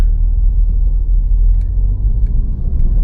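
A BMW G80 M3 with a manual transmission pulls away, its engine a steady low rumble from inside the car, continuous and fairly loud with no talking.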